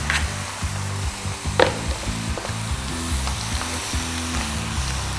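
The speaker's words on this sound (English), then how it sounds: "You can hear that lovely sizzle." Steady loud sizzling of chicken frying in a hot pan, a constant crackling hiss with occasional scrapes and knocks of stirring, close up.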